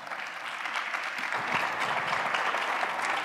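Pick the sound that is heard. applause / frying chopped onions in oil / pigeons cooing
applause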